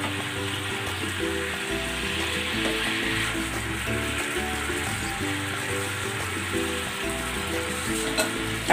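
Chicken legs simmering in a covered pan, a steady loud sizzle and bubbling frying sound with a faint rhythmic pulsing, continuous and close with no voices.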